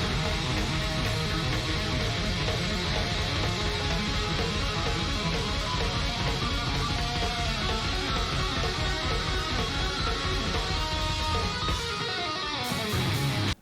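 A fast two-handed tapped electric guitar intro, a dense, busy and continuous stream of notes played loud and steady, with no voices, until it cuts off sharply near the end.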